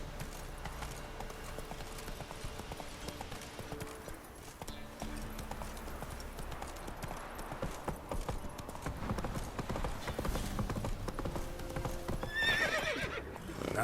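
Roach, a horse in The Witcher 3: Wild Hunt, gallops with a steady, fairly quiet drumming of hooves that runs under game ambience and music. A brief whinny rises near the end.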